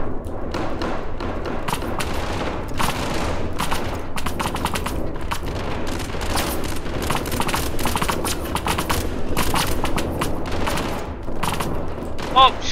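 Gunfire in the SCP Pandemic shooter game rattles in rapid, overlapping bursts throughout, loud and close, with sharp cracks and thuds packed densely together and hardly a pause.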